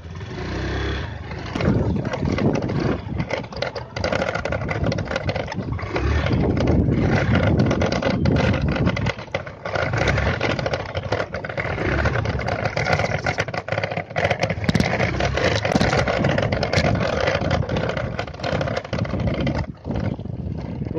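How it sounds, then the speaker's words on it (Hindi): Continuous rattling and clattering of a Honda Activa 125 scooter's loose plastic headlight fairing over a bumpy road, with engine drone underneath, loud and uneven throughout. "ये पूरा इसका फेयरिंग आवाज़ कर रहा है"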